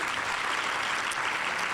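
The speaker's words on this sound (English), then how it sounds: "let's give Gina a round of applause" Dense, steady applause from an audience at an educators' awards ceremony, a continuous wash of many hands clapping that stays even and loud for the whole stretch with no voices on top.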